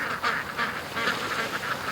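A small flock of backyard ducks keeps up a busy stream of overlapping quacks and calls, steady and fairly close, with no voices over it.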